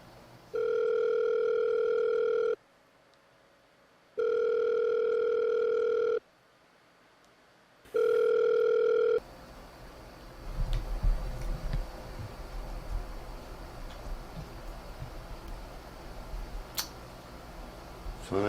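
A phone call rings out unanswered: three evenly spaced electronic ringback tones with silent gaps between them, then the line cuts to a low rustling background.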